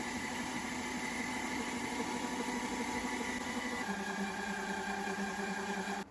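A stand mixer churns cookie dough with a steady, moderately loud mechanical whir and grinding motor hum, its tone dropping slightly near the end, with no talking.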